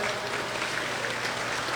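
Crowd applause at a Bread and Cheese festival opening ceremony honoring a late volunteer's family, a steady, fairly faint clapping wash with no voices over it.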